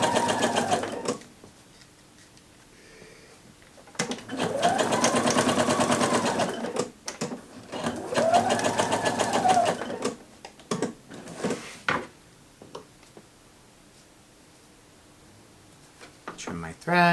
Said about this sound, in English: you can actually keep it on your machine set to the basting